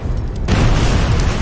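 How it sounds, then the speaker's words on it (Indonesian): A barrel filled with gas and petrol explodes in an action film, a sudden loud boom that bursts in after a brief quiet and holds as a dense roaring rumble to the end. "Dan dari tembakan tersebut terjadilah ledakan yang cukup besar."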